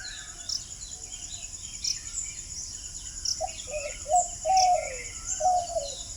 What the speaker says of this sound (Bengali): সুন্দর পাখির আওয়াজ একবার শোনো